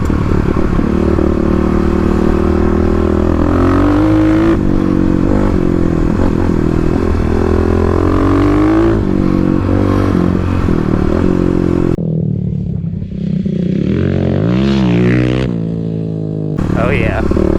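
Kawasaki KLX351 dirt bike ridden on Oregon forest trails, its engine loud and close throughout with revving, shifting pitch and clattering over rough ground, easing off near the end.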